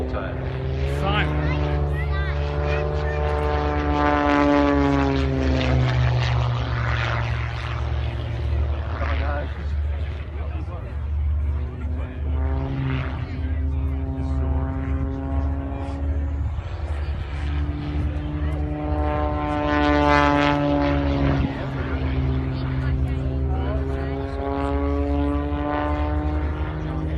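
A propeller aircraft performs a stall turn at the 2017 Tyabb airshow. Its engine drones steadily and loudly throughout, and the pitch rises and falls as the plane climbs, pivots and dives.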